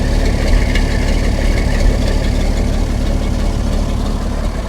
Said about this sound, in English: Certainly is a nice running engine, all right.